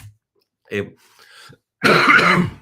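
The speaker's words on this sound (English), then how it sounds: "Sorry, I have a terrible cough." A short cough, then after a pause a longer, harsh hacking cough burst from a lecturer, close and fairly loud.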